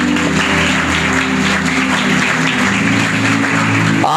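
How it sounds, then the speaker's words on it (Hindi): Church congregation applauding at a sermon, a steady dense wash of clapping that holds at full level throughout, with sustained tonal music or hum running underneath. "तालियां भाई जी तुहाडे लिए"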